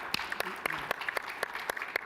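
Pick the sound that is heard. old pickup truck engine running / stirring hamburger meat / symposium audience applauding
symposium audience applauding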